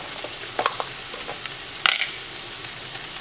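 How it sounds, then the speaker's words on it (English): Onions sizzle and crackle in a hot pan, a dense steady frying hiss with scattered pops and occasional stirring scrapes, no voices. "You can break your onions up. That's sizzling on."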